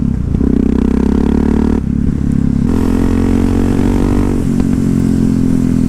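A Yamaha MT-03 single-cylinder motorcycle engine revs loud and close, with rough clattering pops and a brief drop in the note as it blips through the range.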